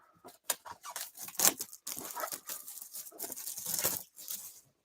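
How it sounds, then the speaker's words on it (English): Cellophane wrapping torn off a pack of hockey pucks, close and crisp, with a run of sharp rips and crinkles in bursts and brief pauses, no talking. "Here goes the cellophane wrapping."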